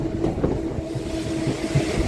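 A MEMU passenger train runs on rails between Machilipatnam and Vijayawada, giving a steady low rumble with faint rhythmic thumps, heard from on board without talk.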